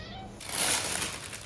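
A cat meows indoors in the background of a home kitchen during cake making, a single drawn-out cry rising over faint room noise.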